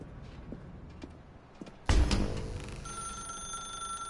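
Telephone ringing in the video game The Stanley Parable: a sudden loud ring bursts in after a quieter stretch of ambient sound, then settles into a steady electronic tone that continues to the end.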